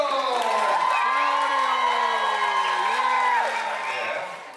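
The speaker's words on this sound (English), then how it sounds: "Join me in a thunderous applause for our Captain Claudio!" A cruise ship audience aboard the Carnival Firenze cheers for the captain, a sustained wash of shouting and whooping with sliding voices over it, loud and steady before fading toward the end.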